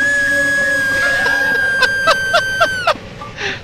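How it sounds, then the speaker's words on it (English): A steam locomotive whistle in the Train Simulator 2015 game sounds as one long, steady, loud tone that holds for about three seconds, followed by a few short sharp bursts. "That was my train whistle."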